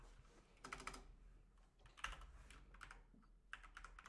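Quiet bursts of typing on a computer keyboard, quick clusters of key clicks separated by short pauses.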